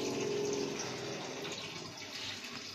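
Water poured into a pot of potatoes, a continuous close gushing and splashing that runs steadily throughout without any talk.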